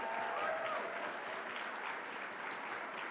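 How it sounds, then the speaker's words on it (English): A gala audience applauds for campaign staff and teams, a broad, even wash of many hands clapping in a large room, sustained and fairly distant. "I also want us to give a round of applause for their staffs, their campaign teams"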